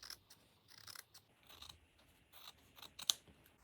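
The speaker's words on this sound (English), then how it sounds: "I'm cutting away the excess batting all around the side panel, keeping the edges clean and even." Scissors trim excess quilt batting around a padded laptop sleeve panel with a series of quiet, close snipping cuts at an uneven pace, ending with one sharper snip.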